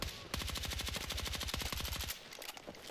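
Rapid automatic gunfire from a 16-round weapon in the video game Battlefield 6, a loud, close, evenly spaced burst of about two seconds, then quiet.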